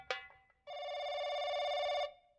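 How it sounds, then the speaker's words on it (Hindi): A telephone rings once with a long, steady electronic trill lasting over a second, preceded by a sharp knock, in an otherwise quiet room. "सर फोन आ रहा है।"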